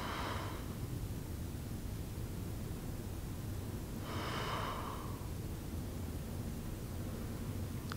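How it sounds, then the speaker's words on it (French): Slow breathing during a floor yoga pose: two soft, drawn-out breaths about four seconds apart, each a brief airy hiss, close and quiet against a steady low hum, with no talking. "Encore 2 respirations."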